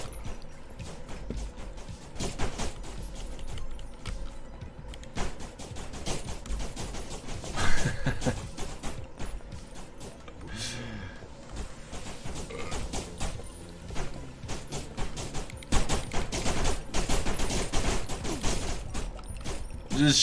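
Repeated gunfire in the video game PropHunter, dense bursts of shots crackling steadily over twenty seconds amid game noise, with no talk.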